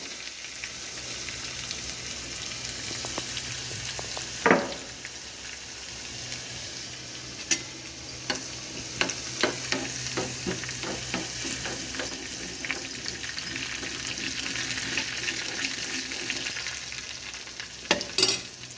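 Crushed garlic frying in a pan, a steady close sizzle with repeated scraping and clinking stirs scattered across the stretch, alone without talk.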